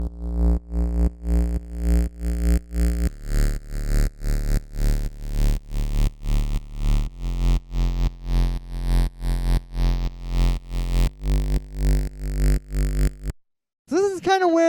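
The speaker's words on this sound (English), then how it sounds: "you can hear there's a lot of movement in this bass." Evolving synth bass in an organic electronic track, deep sustained notes shifting steadily in tone and texture, loud and alone, ending in a brief gap followed by a short warbling sweep.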